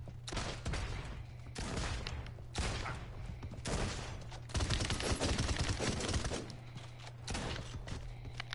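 Rapid bursts of gunfire from the battle royale video game Realm Royale, dense and sustained volleys that are loud and continuous throughout, with no talk.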